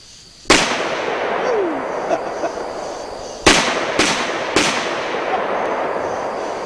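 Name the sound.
gunshot with recoil from a handgun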